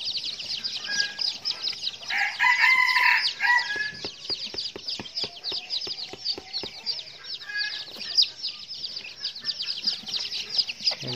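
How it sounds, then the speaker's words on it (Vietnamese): A flock of newly hatched junglefowl chicks kept with domestic chickens: dense, high, rapid peeping throughout, with occasional nearby hen clucks and a crowing-like call mixed in. "Hôm nay mình giới thiệu với anh em cái đàn gà rừng mới nở."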